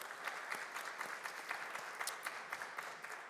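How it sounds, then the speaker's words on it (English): Soft, fairly sparse applause from a crowd at a startup competition finale, individual claps audible in an uneven patter, faint and distant with no speech over it. "One more round of applause for Elevation Outreach."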